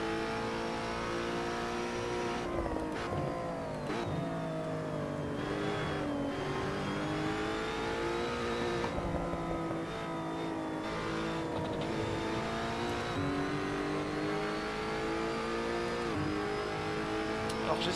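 A race car engine roars throughout an online racing video game, revving up and down with gear shifts as the car brakes and accelerates through corners, loud and continuous.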